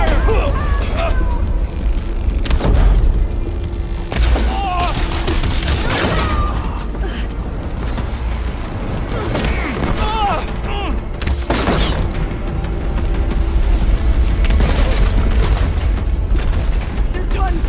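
Enemies open fire in Horizon Forbidden West, a steady barrage of booming shots and bursts that runs without a break over a dense background of combat noise, while voices shout throughout.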